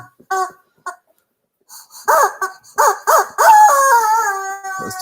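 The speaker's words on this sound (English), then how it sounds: "That's the chicken." A chicken clucks in short bursts, then breaks into a loud, drawn-out crowing call that rises and trails off, close by and without any talk.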